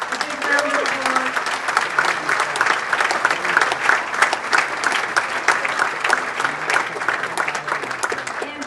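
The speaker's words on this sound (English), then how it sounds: "Can you just wave so we can give you a big round of applause?" Sustained applause from an audience at an awards celebration, many hands clapping in a brisk, even patter that stays loud and continuous from start to finish.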